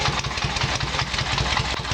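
A small engine holds a steady idle after a carburetor synchronizing adjustment, its low, even chugging pulses repeating closely and evenly throughout.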